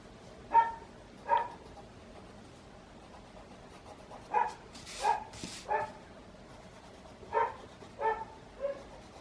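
Dogs bark in short paired bursts at intervals, a few moderately distant woofs standing out against a quiet outdoor background with no talking.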